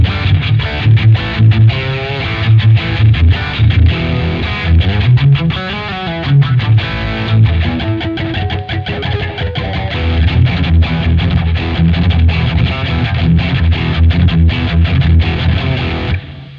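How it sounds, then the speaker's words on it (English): Heavily distorted electric guitar playing continuously through a Sonicake Matribox 2 emulation of an MXR Distortion Plus pedal, thick saturated chords and single notes with a gritty, compressed tone and steady loudness throughout. "Distortion Plus. Based on an MXR Distortion Plus."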